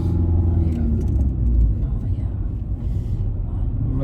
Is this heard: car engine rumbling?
yes